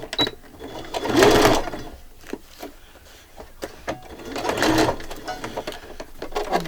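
A sewing machine stitching paper or craft pages, with two bursts of buzzing motor run separated by quieter clicks and handling noise.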